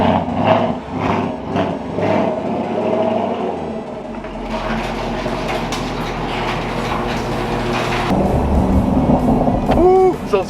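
Infiniti G37 sedan with ported upper and lower intake manifolds and an artificial exhaust burble, driving loudly with a deep engine drone, a shift in tone partway through and a few sharp cracks and pops near the end.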